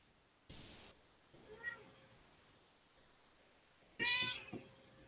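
A pet cat meows indoors during an online meeting, two distinct meows: a softer one early on and a louder, drawn-out one near the end, with faint room noise between and no talking over them.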